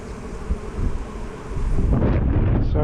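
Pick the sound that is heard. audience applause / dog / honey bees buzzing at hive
honey bees buzzing at hive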